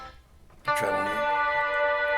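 A guitar preset plays through a portable guitar interface into a phone: a sudden sustained chord swells out of near silence and rings on, washed in reverb, delay and a touch of chorus.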